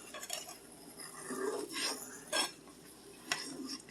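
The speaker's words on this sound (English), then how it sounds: "You're going to take your fork and you're going to swish around the eggs until they scramble up" A fork scrapes and clinks against a pan while scrambling eggs, with several quick swishing strokes and light metallic taps, close and fairly soft, no talk.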